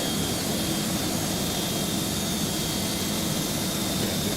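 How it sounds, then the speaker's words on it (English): Airbus A300 number one engine spooling in Microsoft Flight Simulator, a steady broadband jet roar with a constant high whine, loud and unchanging throughout with no voices. "Let's go to startup engine number 1."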